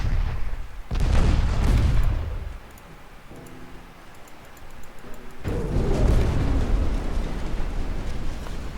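Naval guns and torpedo launches in Ultimate Admiral: Dreadnoughts, with heavy rumbling blasts at the start and again later, separated by a quieter stretch of ticking game sounds.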